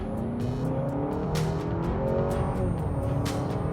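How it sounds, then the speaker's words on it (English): A 2025 Honda Accord Sport L Hybrid pulls away at half throttle in eco mode, heard from inside the cabin: a steady engine drone that climbs in pitch as the car accelerates, with a few brief clicks overhead. "Taking a step out here, eco mode, lean into it about half throttle."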